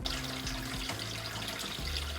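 Water pours steadily into a home-brewing vessel for all-grain beer, a continuous close rushing flow with a low hum underneath, fairly quiet and with no talking.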